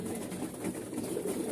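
Close, steady low cooing of several pigeons at feeding, an even murmur with soft scuffling and no speech over it.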